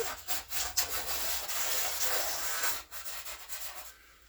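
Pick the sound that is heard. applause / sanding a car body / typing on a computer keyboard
sanding a car body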